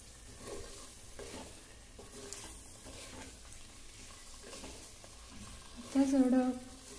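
Boiled eggs being sautéed in spice masala in a pan, with a faint, steady sizzle and soft stirring scrapes; a brief louder tonal sound rises near the end.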